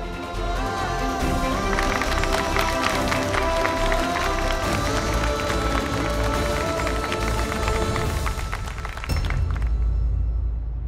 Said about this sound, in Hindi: तालियां मारिए बन्नी के लिए